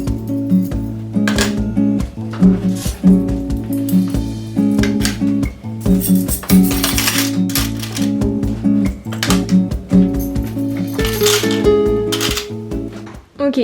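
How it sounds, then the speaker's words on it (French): Metal cutlery is set into a drawer organizer in a new Paris apartment, making repeated sharp clinks and clatters over a steady tonal background. "Ok, du coup j'ai rangé les couverts,"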